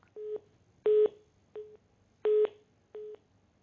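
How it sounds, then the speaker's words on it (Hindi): Telephone disconnect tone: five short electronic beeps at a steady pitch, evenly spaced with alternating shorter and longer pulses, heard clearly over faint background hiss. "लगता है फोन कट गया।"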